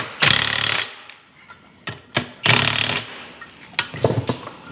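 A power tool tightens nuts on an off-road 6x6, giving two long loud rattling bursts, then shorter intermittent spurts and clattering knocks in between.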